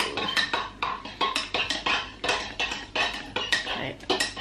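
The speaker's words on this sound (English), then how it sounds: "needs a stir" A spoon stirs coffee in a cup, clinking against the sides in quick, regular rhythmic taps, close and fairly loud, with no talking.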